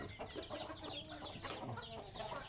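Chickens cluck and chatter close by, several birds calling over one another with no talking.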